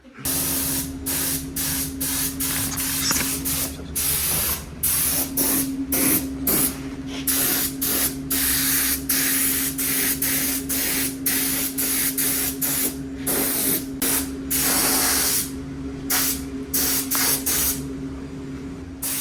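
A spray gun primes a panel on a salvaged car in bursts of loud, close hissing, with short pauses between passes over a steady low background hum.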